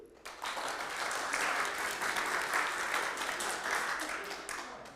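Congregation clapping in a church service, a burst of moderate applause that swells and fades slightly over a few seconds, with faint voices mixed in.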